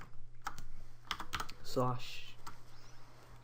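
Computer keyboard typing a short in-game command, a few quick clustered keystrokes close by and fairly quiet, with a brief burst of speech in the middle.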